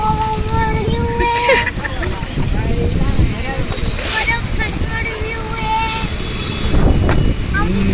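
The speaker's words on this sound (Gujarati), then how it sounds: "એટલો બધો પવન છે ને જો અત્યારે" Strong wind blows outdoors and buffets the microphone with a constant low rumble, while voices talk nearby.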